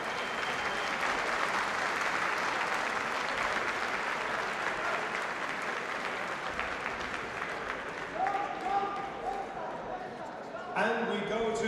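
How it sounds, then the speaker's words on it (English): Loud, sustained applause and crowd noise from an arena audience honouring two boxers after a close contest, steady for most of the stretch, with voices and a few shouts rising near the end. "can we have a huge round of applause for these two fighters?"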